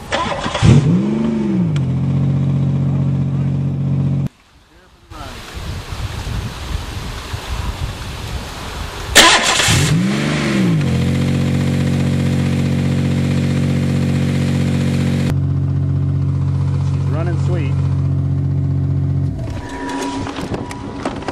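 A crushed Buick's engine starts and revs repeatedly in close, loud bursts with rising and falling pitch, settling into a steady strained idle between pushes as the battered car tries to drive.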